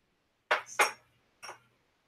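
A drinking glass clinks against other dishes as it is picked up from among dirty dishes: two quick bright clinks close together, then a third after a short pause, close and fairly quiet with no talking.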